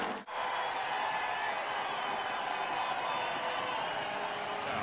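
A large stadium crowd at an NFL game between the San Francisco 49ers and Minnesota Vikings gives off a steady, dense roar of murmur and scattered cheering, continuous throughout with one brief dip near the start.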